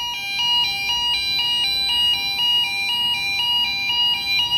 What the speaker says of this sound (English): Zone 2 has activated, so we have a pre-alarm.